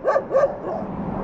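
A dog barks twice in quick, sharp bursts close by while chasing a cyclist climbing a slope on a winter mountain road in Tibet, followed by quieter rustling.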